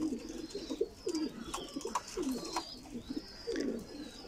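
Pigeons coo repeatedly, with soft rolling low calls in an uneven rhythm, fairly close but quiet, along with a few faint chirps and no voices.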